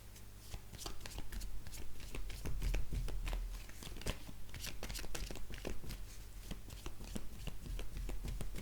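Cartomancy cards are shuffled by hand in rapid repeated riffles and slaps, close and fairly quiet, with a soft low hum underneath.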